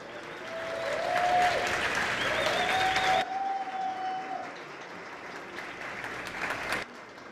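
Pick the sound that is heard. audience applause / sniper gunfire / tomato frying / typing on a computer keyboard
audience applause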